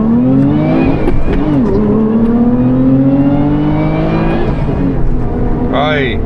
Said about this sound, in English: It actually spun a little bit at the beginning, then it seemed to spin a little bit towards the top, and then it kind of hit the shift limiter